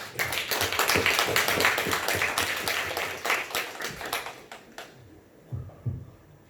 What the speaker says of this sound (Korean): 우리 한번 권사님 박수 한번 치겠습니다